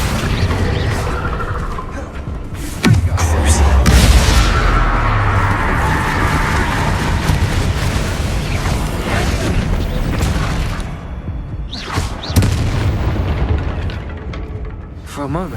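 A Bombarda blast spell in Hogwarts Legacy, heard as a heavy booming explosion with rumbling magical impacts and combat noise. A voice speaks over the action.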